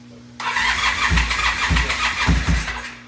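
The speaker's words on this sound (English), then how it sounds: "Start it up, I'll turn it off." The gold V13 motorcycle engine starts on its first start-up, catching abruptly and settling into a loud, close, lumpy idle with a few uneven throbbing pulses. A faint steady hum sits underneath before it fires.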